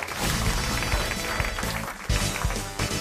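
Studio audience applauding on a French radio comedy show, a dense steady wash of clapping with occasional louder thumps, sustained throughout at fairly close range.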